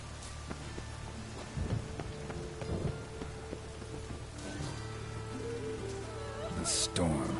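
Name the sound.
storm with rain and thunder in the video game The Witcher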